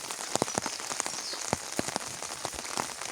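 Rain falling on rural farmyard surfaces near chicken coops during a downpour, with a dense soft patter punctuated by distinct nearby drips and taps, quiet and with no voices.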